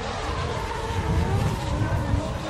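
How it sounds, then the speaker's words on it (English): A Nissan Silvia S15 drift car at a Formula Drift Japan qualifying session at Ebisu, its engine revving hard through a fast run, a loud continuous roar with crowd or commentary noise layered underneath. "listen to that engine rev out"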